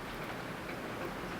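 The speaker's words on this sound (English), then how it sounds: "There's some amount of rain coming down." Steady rain falls outside as a soft, even hiss with faint patter, distant and continuous with no voices.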